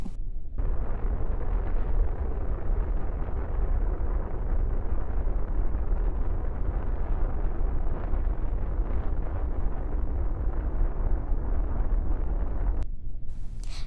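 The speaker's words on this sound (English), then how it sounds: "Apollo LEM engine test fire" An Apollo LEM rocket engine test fire roars as a steady, heavy, low rumble that starts abruptly and holds at constant loudness for about twelve seconds before cutting off.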